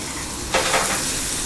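A brief, dense sizzle of vegetables for a zucchini side dish frying in a pan before any liquid is added, with a quick stirring swish partway through.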